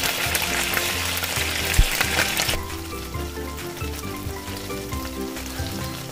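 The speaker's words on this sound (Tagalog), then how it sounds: "So, magigisa na po tayo." Beef sizzles steadily in a hot pan while being sautéed for beef mechado, a dense frying hiss with occasional stirring clatter, close and continuous throughout, with no talking.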